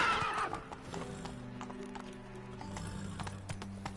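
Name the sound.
horse Roach galloping and neighing, from a video game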